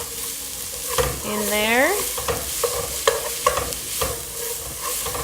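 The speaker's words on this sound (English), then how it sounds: "Dump in my onions." Onions dumped into a pan of carrots for a homemade Indian curry, frying at low-medium heat with steady sizzling, scraping stirs and clanks; a brief whistling tone rises near the start and a voice briefly speaks.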